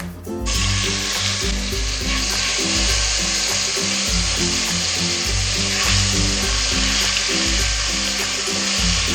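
Ginger, cumin and garlic paste frying in hot oil for polao, a loud, steady sizzle with bursts of spitting and bubbling and low thuds of a spoon working through the paste, continuous and close with no voices.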